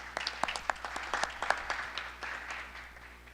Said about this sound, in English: Let's give her a round of applause for her time.